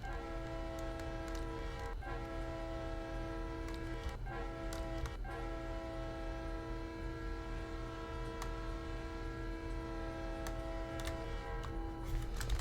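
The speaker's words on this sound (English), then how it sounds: "Please tell me that train's not going onto my line." A train rumbles steadily along the line in a train simulator game on the Blue River Mainline, a constant low drone with sustained tonal horn-like layers and a few brief clicks, with no talking.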